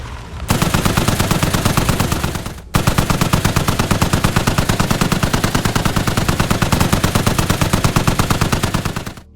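DShK heavy machine gun mounted on a Gaz AA truck in a video game mod, firing two long sustained bursts of rapid, loud, evenly spaced shots with a brief pause between them.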